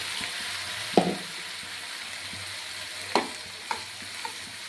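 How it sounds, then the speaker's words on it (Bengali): Onion with ginger-garlic paste fries steadily in a pan for butter chicken masala, a continuous sizzle broken by a few sharp scrapes and clacks of a spatula stirring, close and moderately loud with no talking. "আদা রসুন পেঁয়াজ খুব ভালো করে ভাজা হয়ে গিয়েছে"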